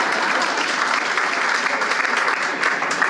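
Sustained audience applause from a crowd at a Women's Day award ceremony in Chennai, steady dense clapping throughout with no talk over it.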